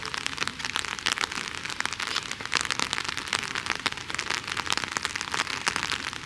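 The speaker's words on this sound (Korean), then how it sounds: "비가 많이 와가지고 지금" Heavy rain pours by a lake in Hallstatt, Austria, a dense, steady crackling patter of close drops that continues without a break, with no voices.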